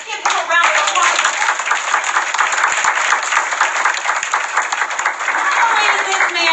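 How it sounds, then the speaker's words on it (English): Audience at a company presentation applauding the CEO, loud close rhythmic clapping with cheering and voices mixed in throughout. "Ladies and gentlemen, let's give him a round of applause."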